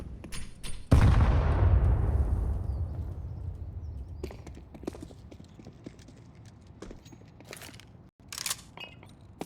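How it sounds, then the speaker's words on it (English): An HE grenade explodes in Counter-Strike on the Overpass map, one loud boom near the start that decays slowly, followed by scattered clicks and faint thuds. "Okay, a few HE explosions, but nothing off the back of that."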